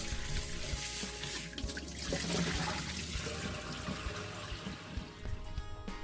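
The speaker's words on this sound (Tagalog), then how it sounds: "tagalan po muna natin ng tubig yung ating binabad sa brine solution at ito po yung ating hugasan para matanggal po ang excess po na alat" Running tap water rinses brine-soaked bitter gourd (ampalaya) to wash off excess salt, a continuous loud splashing stream with shifting gurgles as the pieces are moved beneath it.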